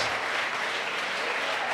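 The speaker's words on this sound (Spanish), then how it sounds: "Denle ese aplauso al Señor" A church congregation applauding during a sermon: dense, steady clapping from many hands fills the whole short stretch at a loud, even level, with no voices standing out.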